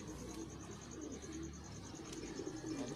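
A sturdy racing pigeon coos softly in low, rounded murmurs, faint and close against a quiet background with a thin, steady high-pitched tone running throughout.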